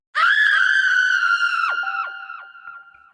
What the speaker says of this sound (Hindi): एक तेज चीख पूरे अस्पताल में गूंज गई